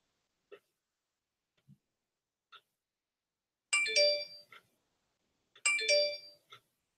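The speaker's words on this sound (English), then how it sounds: "I'm getting a lot of notifications." Notification alert tones arriving during a livestream: a few short faint pings, then two louder bright chiming bursts a couple of seconds apart, against silence.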